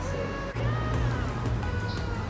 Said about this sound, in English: sorry if you can hear the cars